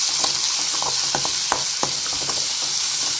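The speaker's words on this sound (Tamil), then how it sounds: "இப்போ நல்லா வதக்கிக்கலாம்" Chopped large onion sautés in a hot pan with a continuous bright sizzle. Scattered soft scrapes and taps from stirring sound close by, with no talking.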